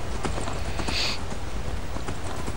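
Horse hooves clip-clopping in the video game Skyrim: a steady, fairly loud run of rhythmic hoofbeats on the ground over a constant ambient game soundscape, with no talk.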